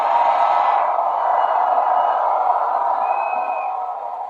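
Loud, steady roar of a packed wrestling arena crowd cheering at a WWE SmackDown event in New Orleans, a dense continuous wall of noise that fades slightly at the end.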